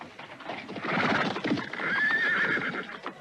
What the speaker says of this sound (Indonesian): Bukankah itu kereta kuda Nyai Jari-Jari?